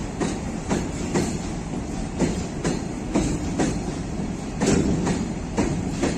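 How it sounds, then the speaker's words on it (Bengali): A train rolls past on a railway line in Bangladesh, its wheels beating a fast, regular clickety-clack of close, loud rail-joint thumps over a constant rumble. "আমি ট্রেনটির নাম জানতে পারতেছিলাম না যে এখন কোন ট্রেন আসছে"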